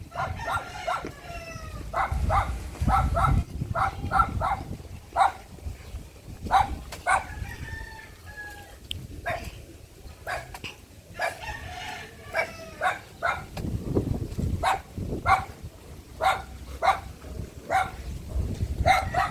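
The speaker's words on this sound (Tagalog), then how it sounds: "Gagalit yung aso oh." An angry dog barks repeatedly in sharp bursts, with a rooster crowing in the background amid outdoor ambience.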